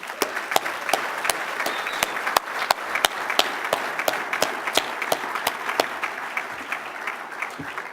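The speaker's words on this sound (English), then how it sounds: "please, let's all give our winners a round of applause" Applause from a conference audience honoring award winners, steady dense clapping with some sharp individual claps standing out, moderately close and sustained throughout.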